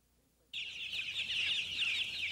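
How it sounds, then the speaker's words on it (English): One-week-old baby chicks peeping in hot weather, a continuous high chorus of cheeping that starts abruptly and carries on steadily, fairly close and moderately loud with no talk. "These baby chicks are 1 week old."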